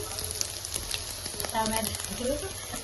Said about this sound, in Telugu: ఇలా ఇంకొంచెం ఫ్రై చేసుకోవాలి